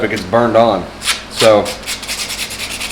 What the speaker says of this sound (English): while you're sanding your Bondo pieces there